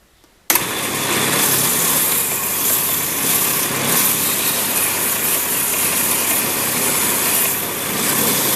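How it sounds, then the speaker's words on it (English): A loud, steady strip sander whine starts abruptly and runs continuously, a harsh broadband grinding on wood, with no talking. "And now to the strip sander for the final sanding"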